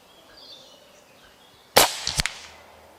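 A single sharp crack from an Aselkon MX6 6.35 air rifle fitted with a 3D-printed sound moderator, fired at a target 60 metres away, stands out loud against a quiet outdoor backdrop and is followed by a brief ringing tail.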